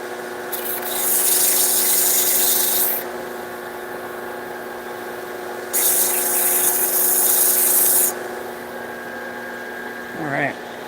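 Sanding a wooden shillelagh stick by hand, two long, steady, hissing rubs separated by a pause, heard over a constant low hum.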